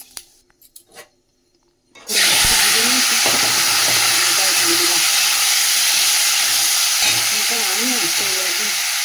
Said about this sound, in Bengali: এই যে চাটনিতে 5 ফোড়ন আর শুকনো লঙ্কা দিয়ে দিলাম।